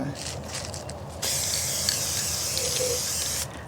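Spray paint hissing onto homemade luminaries, a short burst at first, then one long steady close spray lasting a couple of seconds before cutting off.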